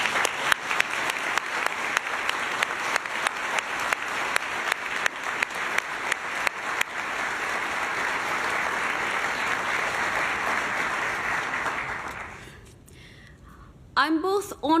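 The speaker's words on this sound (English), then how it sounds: "Let's give them a big round of applause." Applause from an audience at an award ceremony on stage, many hands clapping loudly at first with some sharp individual claps. It thins and fades out near the end, where a voice begins to speak.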